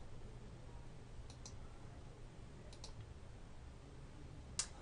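Computer mouse buttons clicked in quick pairs at a desk, three crisp double-clicks spread over several seconds against a quiet background hiss.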